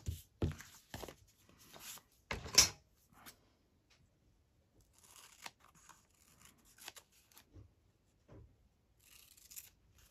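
Scissors trim excess material for a trifold journal insert, with several quiet, close snips and crisp cutting strokes scattered among soft handling noises and pauses.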